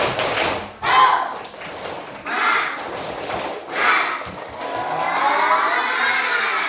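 A primary school class at SDN 3 Sukadaya performs the rhythmic 'tepuk semangat' spirit clap in unison, with three sharp group clap bursts separated by pauses, then a longer stretch of continuous clapping and children's noise close by.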